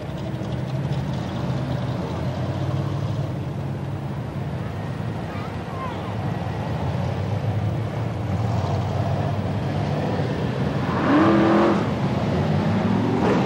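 BriSCA Formula 1 stock car engines rumble steadily on the grid at a 1994 Coventry meeting, a dense continuous roar with one engine swelling louder near the end, under a faint announcer's voice.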